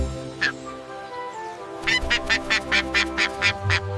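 A mandarin duck calls once, then after a pause gives a quick series of about eight short, evenly spaced calls. The calls are close and moderately loud over a faint steady background.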